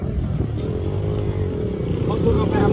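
A small motorcycle idles steadily close by with a low, even engine drone and a slight rise in revs toward the end, while people talk over it.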